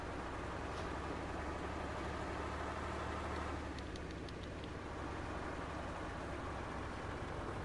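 Vehicle engine in the DayZ video game, a steady continuous drone that holds level throughout, fairly loud and alone with no voices.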